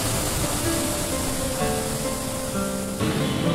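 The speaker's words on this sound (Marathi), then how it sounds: "ह्या रोडवरती हा एक सुंदर असा धबधबा आहे." Randha waterfall near Bhandardara, Maharashtra, roars in a dense, constant wash of falling water, loud and unbroken throughout with no voices.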